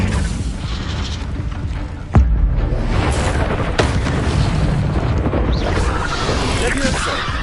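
An Incendio fire spell is cast in Hogwarts Legacy, bursting with a sudden loud boom and rushing roar that carries on over a dense, continuous game soundscape.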